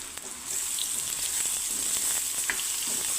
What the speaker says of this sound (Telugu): మటన్ కూడా వేసుకుందాము.